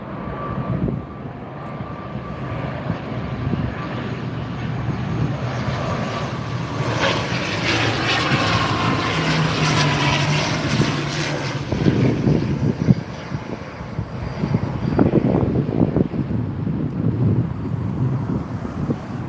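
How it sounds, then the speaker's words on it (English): A Loganair ATR 72-600 turboprop airliner from the Isle of Man arrives at Heathrow, its propeller drone rising to a loud sustained rumble mid-pass with some wind buffeting, then easing slightly. "here it is, the ATR 72-600 from the Isle of Man"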